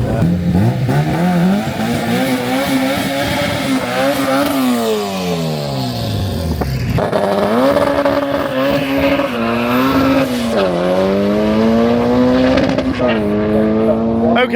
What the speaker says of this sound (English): he span quite a bit, but I think the wheel speed probably helped a little bit, and it did get away quite nicely